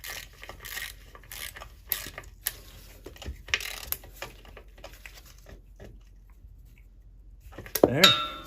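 A nut threaded back onto a shouldered shaft in the undercarriage of a 1973 Monte Carlo: sparse metallic clicks and light ratcheting taps, then a louder clank near the end, close by in a quiet space.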